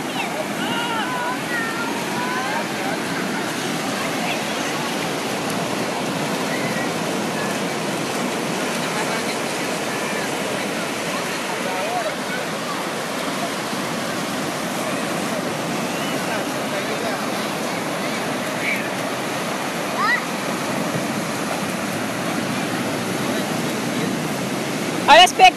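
Ocean waves wash onto a beach in a steady, broadband roar that stays loud and continuous, with faint voices nearby and a few sharp knocks near the end.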